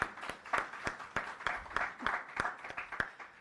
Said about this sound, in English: Another round of applause for Mr. Mills.